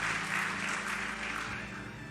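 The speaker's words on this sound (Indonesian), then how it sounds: "Tepuk tangan paling meriah buat Tuhan." A church congregation gives a sustained burst of applause, a dense, steady wash of many hands clapping together that fills the room for a couple of seconds.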